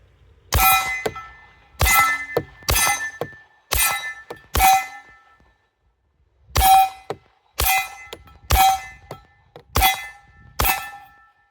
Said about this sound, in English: for the sake of it, I'm going to shoot the left steel target